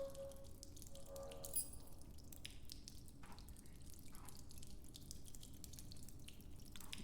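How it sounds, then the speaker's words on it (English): Water dripping in the horror video game Butcher's Creek, a faint, scattered patter of drops over a steady low ambient hum, with no talking. "the dripping water sound can maybe be used to obscure footsteps."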